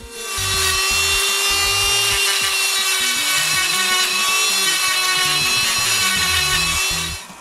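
A loud, high-pitched whine of a Dremel rotary tool rounding over wooden edges, continuous with a shifting low rumble beneath as the bit works the edge.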